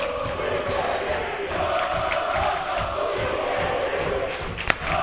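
A crowd at a fraternity ice hockey tournament yells and cheers continuously, a dense roar of many voices with a brief sharp knock near the end.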